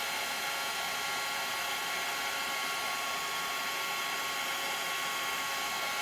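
A heat tool melting embossing powder gives a constant, loud, even whoosh of hot air that runs unbroken from start to finish, with no voices.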